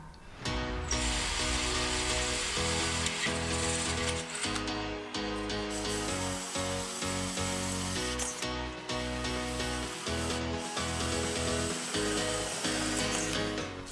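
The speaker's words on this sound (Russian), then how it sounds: "Просверливаем отверстие, через которое будем крепить к столешнице, диаметр 5 мм." A drill bores a 5 mm hole through a metal table support, giving a loud, steady mechanical whine up close that continues without a break, with only brief dips in pitch while the bit cuts.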